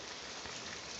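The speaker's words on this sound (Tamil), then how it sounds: "கேட்டுங்களா வீட்டுக்குள்ளேயே மழை பெய்யுது" Steady rain pouring and dripping indoors as water leaks through the roof into a house, a dense continuous patter of drops on surfaces throughout with no talking.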